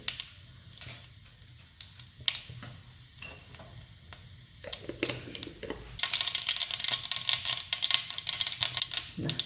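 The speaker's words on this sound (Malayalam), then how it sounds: "കടുക് പൊട്ടിയിട്ടുണ്ട്" Mustard seeds spluttering in hot oil for a drumstick-leaf upma, giving a dense run of sharp popping crackles that grows louder and busier toward the end, with no talk.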